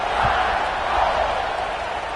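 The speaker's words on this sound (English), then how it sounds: "this crowd is buzzing after that last score" A stadium crowd at a college football game buzzes steadily after a score, a dense, continuous roar of many voices with no single sound standing out.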